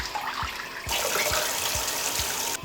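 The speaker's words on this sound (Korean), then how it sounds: "여기에 물을 부어주세요." Water splashes into a pan on a gas stove, a gentle trickle that turns into a louder, steady rushing pour after about a second.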